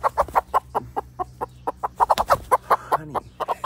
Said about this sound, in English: She's our anxious bird.